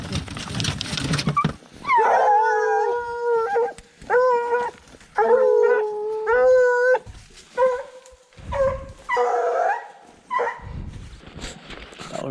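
Hunting dogs on a fresh bear or big cat track give repeated drawn-out howls and baying yelps in an uneven chorus, loud and fairly close, with little talk.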